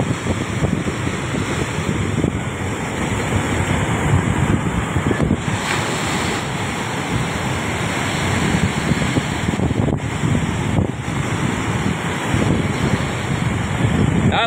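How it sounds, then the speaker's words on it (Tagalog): Strong typhoon wind roaring along a shoreline with brown, debris-filled surf churning nearby; a loud, continuous buffeting rush of wind noise with crashing waves, battering the microphone throughout. "Halos di na madirig ang boses ko sa sobrang lakas ng hangin."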